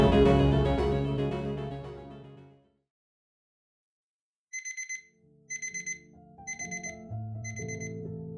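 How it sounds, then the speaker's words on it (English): An alarm clock rings in repeated bursts of shrill electronic beeping, each group about a second long with short gaps, entering after a fading musical sound and a moment of silence. "41-year-old entrepreneur named Lance Herndon woke up at 3:40 a.m. to the sound of his alarm clock going off"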